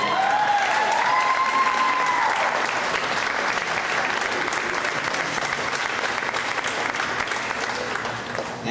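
Steady applause from a high school girls' volleyball crowd honoring senior players, filling the gym evenly for several seconds with a brief whistle-like tone early on, then tapering slightly toward the end.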